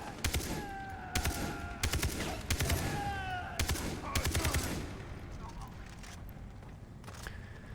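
Automatic AK rifle fire in Far Cry 3, several loud close bursts in quick succession with short gaps between them, then tapering to sparser shots as someone talks over the shooting.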